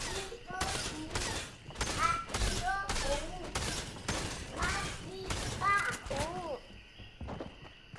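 Rapid bursts of gunfire in Fortnite, a dense run of sharp shots packed across several seconds, close and loud, with a voice speaking over them.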